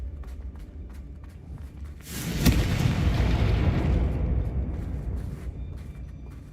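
A Confringo fire-blast spell in Hogwarts Legacy erupts into a loud, sudden boom that rolls out into a long, rumbling roar and slowly fades, with no talk over it.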